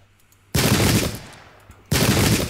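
Rifle fire in a Battle of Ulundi war video game: two loud, dense volleys of massed musketry crackle close, each fading slightly before the next breaks out.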